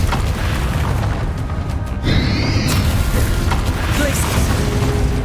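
Bombarda explosion spell cast in the Hogwarts Legacy video game, a loud booming blast with a brief rising magical shimmer, heard amid continuous dense combat noise.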